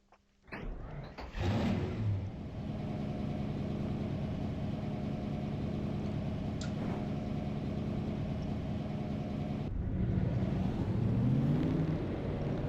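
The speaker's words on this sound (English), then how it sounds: "Drivers, start your engines!" Stock car engines firing up in the NR2003 racing game for a 1992 Winston Cup race at Sears Point, a sudden loud start settling into a steady, rumbling idle with a brief rev surge near the end.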